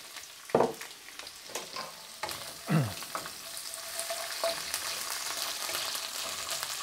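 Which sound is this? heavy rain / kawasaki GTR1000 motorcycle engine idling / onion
onion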